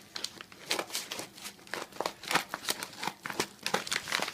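Plastic packaging for a 2004 iPod mini crinkles and crackles in rapid, irregular bursts as it is cut open with scissors, close and fairly quiet, with no talk.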